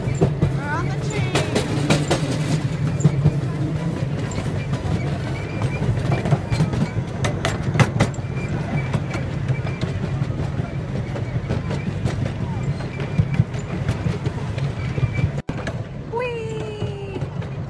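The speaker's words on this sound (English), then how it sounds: "We're on the train." Rumbling ride on a small train in Arizona with rattling and clicking, voices talking over the steady mechanical noise, and a sharp squeal near the end.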